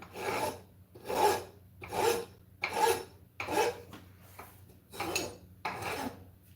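Rasp filing a wooden tomahawk handle, about eight rhythmic rough strokes close up, each a short scraping rasp followed by a brief pause.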